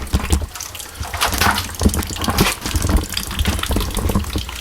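Water pours and splashes from a leaking PEX connector on an outdoor hose bib, a constant close gushing and spattering stream with irregular drips, no voices.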